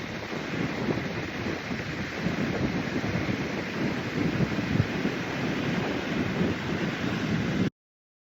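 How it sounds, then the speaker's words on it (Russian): Strong typhoon wind on the Hainan coast roars steadily and loudly against the microphone for several seconds, buffeting in uneven gusts with surf-like rushing, then cuts off abruptly; nobody talks. "Ветер очень сильный"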